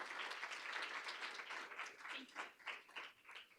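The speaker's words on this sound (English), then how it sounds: "Let's give them another round of applause." A round of applause at a school board of education meeting, scattered hands clapping steadily then thinning toward the end, moderately distant in a hall.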